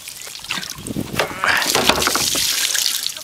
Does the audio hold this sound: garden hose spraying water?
yes